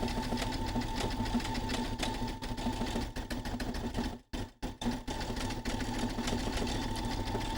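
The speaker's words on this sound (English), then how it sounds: "The magic of sewing machines." A sewing machine stitches a dice bag in a steady, continuous whir with a constant mechanical hum, pausing briefly twice partway through before running on at the same even pace.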